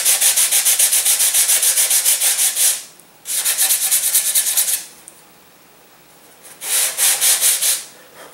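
Hand sanding along the beveled edge of a model airplane's balsa wings, three bursts of steady back-and-forth rasping strokes separated by short pauses, close and clear with no talk.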